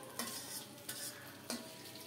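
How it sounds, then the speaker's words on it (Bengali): A spatula scrapes through cabbage frying in a pan in three distinct stirring strokes, each over a soft, steady sizzle. The sound is quiet and close, with no talking. "এবার ভালোভাবে নেড়ে চেড়ে একেবারে সুন্দর করে ভেজে নেব।"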